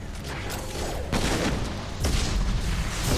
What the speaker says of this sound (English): Deploying incineration tech.